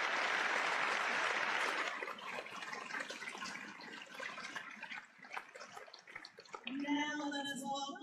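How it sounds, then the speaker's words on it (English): Audience applause greets the Municipal Court of Atlanta at a New Year public ceremony, a dense clatter of clapping that fades after two seconds into scattered claps and crowd noise, followed by a brief voice near the end. "please give a big round of applause for the Municipal Court of"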